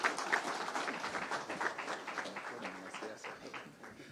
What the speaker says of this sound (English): I will request you to stand up and clap for him so that he can talk to us.